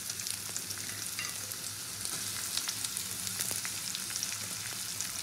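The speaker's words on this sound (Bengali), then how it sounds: "এবারে এই কুচনো পেঁয়াজটা দিয়ে দেবো তেলের মধ্যে" Chopped onion sizzles in hot oil left over from frying hilsa fish, being cooked down for a mashed fish-tail bharta. The crackle is even and constant, up close, with occasional sharper spits and light stirring, and no voices.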